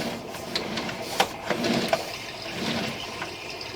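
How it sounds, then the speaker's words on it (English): Water rushes and gurgles steadily through a 4-inch clay drain pipe, with occasional knocks and splashes, no voices. "someone's using a lot of water now"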